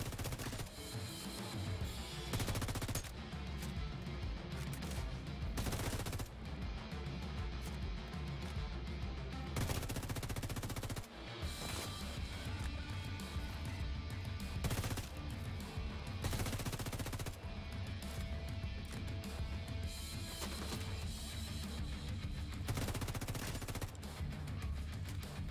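Automated turret gunfire in The Division 2, loud rapid bursts rattling almost without pause, broken by a few short gaps over a long stretch.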